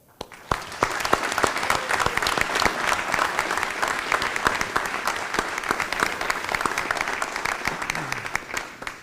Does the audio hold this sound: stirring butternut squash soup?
no